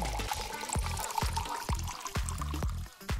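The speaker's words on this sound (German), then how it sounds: "Also es wird Zeit, unsere Blumen zu gießen." Water poured over flowers, a steady splashing stream running for the whole few seconds with some louder gurgles, fairly close and with no talk over it.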